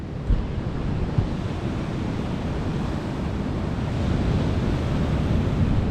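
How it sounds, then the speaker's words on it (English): Ocean waves surge and crash against rocks on the coast at Apollo Bay, a steady broadband roar with wind buffeting the microphone, swelling louder toward the end with no voices. "How they do it when the waves are like this."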